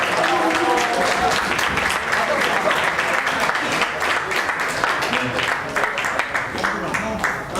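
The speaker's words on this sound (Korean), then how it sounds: "예, 박수 부탁드립니다." Sustained, dense audience applause fills a hall at a Startup Weekend results and awards ceremony, as the crowd claps steadily for a winner for several seconds, with a faint voice underneath.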